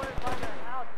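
A short burst of rapid gunfire in a World War II video game, three or four quick cracks in succession followed by a lingering ring.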